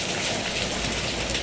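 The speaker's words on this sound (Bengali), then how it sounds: "বাইরে কিন্তু ভীষণ পরিমাণে বৃষ্টি হচ্ছে" Heavy rain falling outside, a steady, dense hiss that holds at even loudness throughout, with no voices.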